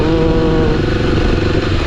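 A Kawasaki D-Tracker 250cc (LX 250) motorcycle with a standard exhaust, its single-cylinder engine running loud and close in a steady throbbing drone for a couple of seconds, with no talk.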